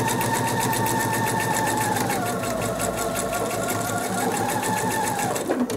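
Sewing machine stitching two pieces of quilt fabric together, a steady rapid whir running continuously at close range, winding down at the very end.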